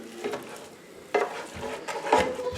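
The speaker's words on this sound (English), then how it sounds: "So I'm just gonna brown this ground turkey and then we will season it up." Ground turkey browning in a pan without oil, soft steady sizzling broken by a few sharp scrapes and clinks of a utensil against the pan, close up and with no talking.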